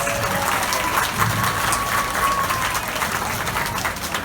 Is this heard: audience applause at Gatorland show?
yes